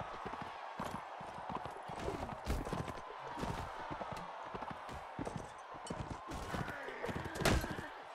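Horse hooves clip-clopping in the Mount & Blade Warband video game, a fast, steady rhythmic patter of galloping amid battle clatter and scattered impacts, moderately loud throughout with no talk over it.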